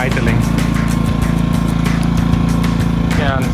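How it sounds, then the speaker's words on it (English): A portable generator engine idles steadily in economy mode, a loud continuous low throbbing hum heard close up throughout. "When I hit the economy switch, the noise goes a little bit down because the engine is now idling."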